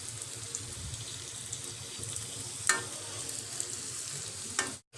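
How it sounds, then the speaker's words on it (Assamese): Assamese pur pitha fries in hot oil with a soft, constant sizzle, faint and steady, broken by a couple of brief sharper crackles or scrapes and a sudden stop at the end; no one speaks. "এতিয়া তেল গৰম হৈ গৈছে আৰু তেলত মই এয়া দি দিছো আৰু এইখিনি মই ৰঙচুৱাকে ভাজি লম"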